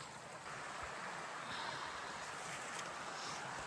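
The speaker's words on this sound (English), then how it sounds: "we're gonna stop, take a break, and listen to the creek" A very quiet, steady wash of a creek's flowing water on the Appalachian Trail, a soft continuous rushing with no voices.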